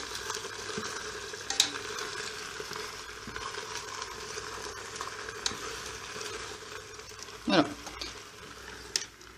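Food fries in a Philips multicooker on its fry setting, a soft steady sizzle running throughout with a few brief knocks and clatters, and a person says a word briefly.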